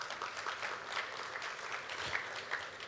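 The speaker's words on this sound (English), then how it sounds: "Let's please give the CCE one more round of applause." Applause from the audience at a formal launch event for an oil production initiative, a dense, sustained clapping that fills the whole stretch at steady moderate loudness.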